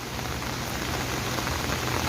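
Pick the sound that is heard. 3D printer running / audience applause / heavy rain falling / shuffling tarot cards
heavy rain falling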